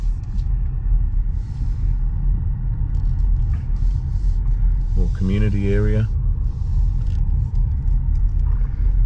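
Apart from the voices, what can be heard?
car driving down toward a rest stop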